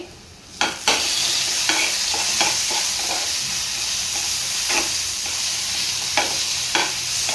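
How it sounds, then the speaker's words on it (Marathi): Chopped tomatoes hit hot oil with a sudden loud sizzle, then fry steadily in the pan while a spoon scrapes and stirs at irregular intervals, close and loud with no voices. "आणि टोमॅटो पण छान परतून घेणार आहे"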